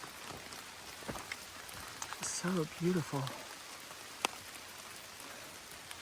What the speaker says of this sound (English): It's still raining. I don't know if you can hear it or not. It's just like a little heavier than a drizzle